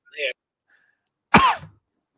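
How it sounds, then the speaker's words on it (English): A single short cough follows a brief throaty sound, with silence between them. "Get that cough away."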